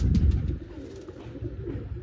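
Soft, low pigeon coos repeat over a muffled background hum, close by and fairly quiet.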